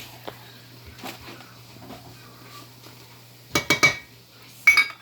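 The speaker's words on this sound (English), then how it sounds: "And give that a stir, cook out the flour taste." A utensil scrapes and clinks against a pot while stirring flour into a roux, soft at first, then several louder knocks and scrapes near the end.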